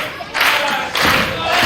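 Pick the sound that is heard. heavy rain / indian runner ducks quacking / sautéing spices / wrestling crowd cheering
wrestling crowd cheering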